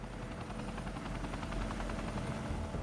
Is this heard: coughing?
no